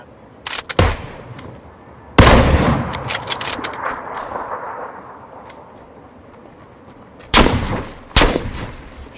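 Gunfire in PUBG on the Miramar desert map: a few loud sharp shots and bursts crack out with echoing tails, separated by stretches of low rumbling background.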